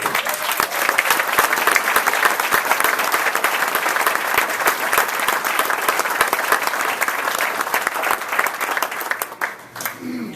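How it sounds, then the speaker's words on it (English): A Rotary gathering bursts into sustained applause for an award recipient, many hands clapping densely and steadily before the sound thins and fades near the end. "So a round of applause for Phil"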